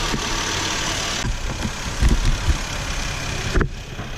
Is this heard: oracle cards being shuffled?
no